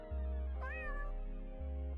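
A single cat meows once, a clear drawn-out call that rises and falls, heard close over a steady low hum of background noise.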